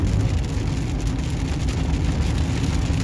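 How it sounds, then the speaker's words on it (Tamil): Light rain patters on a moving car driving a four-lane road in Riyadh, Saudi Arabia, a steady close wash of drizzle and road noise throughout, with no talking. "லைட்டாக மழை வர ஆரம்பிச்சிருச்சு வேறு."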